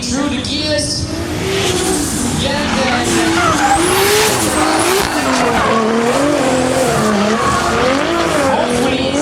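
Drift cars at King of Drift Asia 2015, including a Toyota Corona and Nissan 240SX/Silvia, roar loudly as engines climb through the gears, with rising and falling revs layered over continuous screeching tire skids and squeal.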